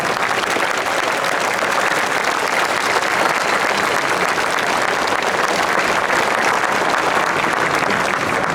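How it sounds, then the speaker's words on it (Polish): Loud, dense crowd applause fills an outdoor political rally in Poznań's Old Market Square, many hands clapping continuously and evenly close to the listener, with no speech on top. "jeszcze raz wielkie brawa!"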